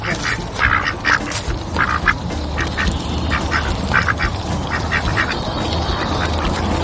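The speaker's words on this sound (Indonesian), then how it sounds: "dan ini seekor bebek" A toy duck from an ondel-ondel mini unboxing quacks repeatedly and loudly, a rapid, nasal series of quacks close up over a steady background hum, continuing throughout.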